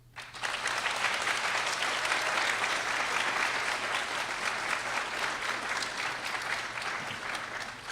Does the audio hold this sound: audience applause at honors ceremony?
yes